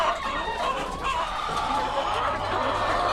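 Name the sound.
chickens clucking on a farm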